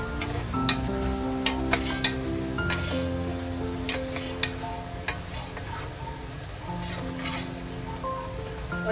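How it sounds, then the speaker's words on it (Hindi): Masala sizzles and fries in a pan with potato koftas added for a Delhi-style degi aloo kofta, a steady close crackle with scattered sharp pops and occasional stirring clinks, no voices. "हमारा मसाला भून रहा है"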